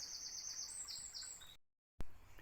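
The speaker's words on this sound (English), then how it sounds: "we got the birds singing away" Several birds chirp and whistle in bright, high phrases outdoors on a footpath near woodland, fairly close, then a brief silence and a single sharp knock.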